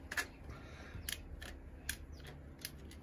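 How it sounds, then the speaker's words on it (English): Old BMX brake cables are snipped with cutters, giving several sharp, close clicks spread unevenly over a few seconds against a quiet background. "we can just go a bit mental and just cut them"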